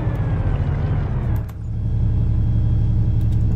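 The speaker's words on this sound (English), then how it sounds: "this is just like the default truck sound on the Lab 25" Steady, loud engine drone of the Lab 25 truck in Arma 3's Czech DLC, a low heavy rumble that dips briefly and then builds back up as it accelerates, with no voices.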